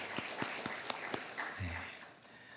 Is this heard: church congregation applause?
yes